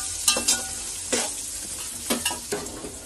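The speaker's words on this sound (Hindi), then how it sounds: "यहाँ पर थोड़ा टाइम बटाटे को भी होने अच्छे से देते हैं फ्राई।" Potatoes fry in oil with onions for a biryani, a steady sizzle broken by several short scraping stirs of a spoon against the pan, close and moderately loud.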